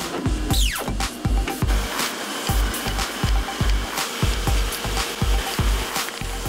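Industrial paper cutter slicing through stacks of printed sheets in a print shop, a steady run of sharp, evenly spaced knocks and clunks over a constant loud machine drone.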